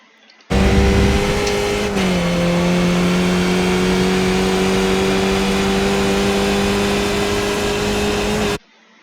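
Skip Barber race car in the iRacing sim at Montreal's Circuit Gilles Villeneuve, its engine droning steadily at high revs, with a brief pitch dip near the start as it shifts up, then holding a loud, constant note to the end.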